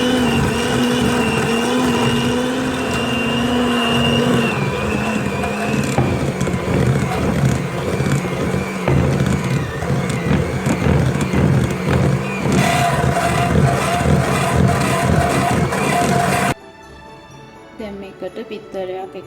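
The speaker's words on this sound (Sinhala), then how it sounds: "මුලින් ඔයාලා අඩු ස්පීඩ් එකේ මේක බීට් කරගන්න" An electric mixer beats Christmas pudding mixture to a cream at low speed, giving a loud, steady motor whir with rattling from the bowl that stops abruptly near the end, leaving quiet background.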